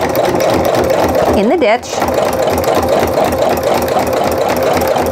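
A sewing machine stitches a scrappy Christmas tree mug rug, its motor humming in a steady rapid rhythm close by, briefly pausing before running on, while someone talks over it.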